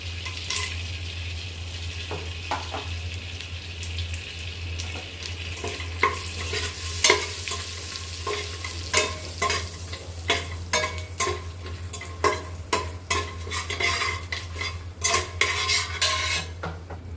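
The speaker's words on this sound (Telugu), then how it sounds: "నేను ఇక్కడ జాపత్రి, యాలకులు, రాతి పువ్వు, అలాగే స్టార్ పువ్వు, అలాగే లవంగాలు ఇవన్నీ వేసానండి" Whole mace, cardamom, stone flower, star anise and cloves frying in hot oil for mint pulao, a steady sizzle with a low hum beneath and frequent sharp spoon scrapes and clinks against the pan, growing busier toward the end.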